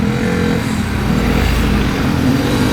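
A motor tricycle's engine revs loudly and steadily up close, a rough continuous drone that holds throughout with no voices over it.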